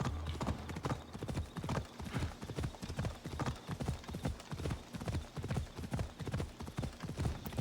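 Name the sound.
horse hooves clip-clop in Assassin's Creed Odyssey video game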